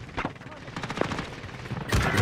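Rapid MP5 submachine gun fire in the video game Call of Duty Rebirth, a dense run of close, loud automatic bursts with a voice speaking over parts of it.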